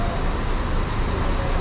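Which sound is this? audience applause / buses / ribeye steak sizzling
buses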